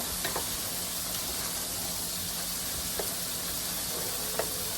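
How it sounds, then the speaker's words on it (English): Dirty rice sizzles quietly in a pan while being stirred, a soft steady hiss with a few light scraping clicks of the utensil. "We're going to stir it again. Stir it through."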